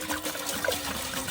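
Water pours into a large pot for boiling meat in an outdoor cooking setting, a steady splashing trickle heard close and fairly loud throughout with no talking.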